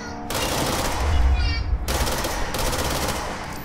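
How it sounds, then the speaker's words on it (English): Rapid sub machine gun fire in the video game Control, a dense continuous rattle of shots that breaks briefly and resumes, loud and close, with a voice talking underneath. "Sorry, sub machine gun."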